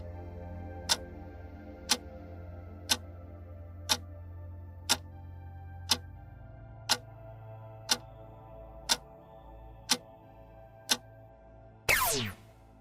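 A quiz countdown clock ticks twelve times at an even one-second rhythm over a low background hum, ending in a sharp rising whoosh as time runs out.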